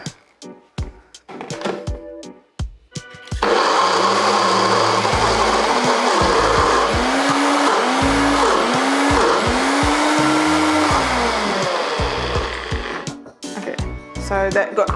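A blender whirs loudly and steadily for about ten seconds as it purees chickpeas for homemade hummus, its motor pitch sagging and recovering several times as the thick mix resists, with brief clatter and a voice before and after.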